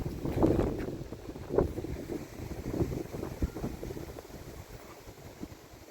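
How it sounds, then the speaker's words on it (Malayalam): Strong gusting wind buffets an outdoor country path, rumbling in low, uneven surges with breezy hiss and microphone buffeting, loud and close, no talk. "ഇവിടെ ഇപ്പോൾ ഭയങ്കര കാറ്റാണ്, നല്ല കാറ്റും"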